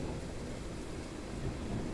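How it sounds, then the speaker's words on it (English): Rain falls steadily in Train Sim World 5 on the Groningen to Zwolle line, making a constant, dense hiss with no breaks and no voices. "It's just the rain is so annoying, right?"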